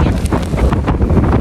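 Strong wind gusting in Greenland, buffeting the microphone with loud, continuous rough roaring and rumbling throughout, no other sounds standing out.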